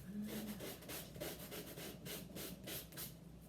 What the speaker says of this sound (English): now that that's sanded